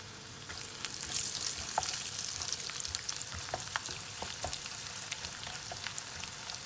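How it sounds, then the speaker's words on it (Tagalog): Dried anchovies (dilis) fry in leftover cooking oil with a steady close crackling sizzle, broken by small pops and the scrape of stirring. "so magpiprito muna tayo ng dilis"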